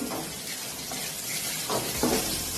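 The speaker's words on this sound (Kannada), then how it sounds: "ಒಂದು 4-5 ಮೆಣಸಿನ್ಕಾಯಿ ಹಾಕಿ ಅದನ್ನು ಫ್ರೈ ಮಾಡಿ" Four or five green chillies frying in a pan for a village-style small brinjal dish, a soft hissing sizzle with a few light stirring scrapes.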